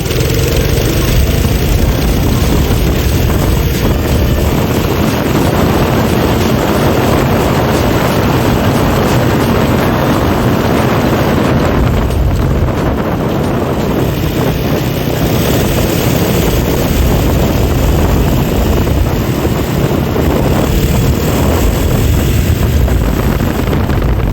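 Small go kart from F.W. and Associates Mini Cars with an 80cc engine runs continuously and loudly at close range, a steady buzzing drone with slight shifts in pitch, no talking over it.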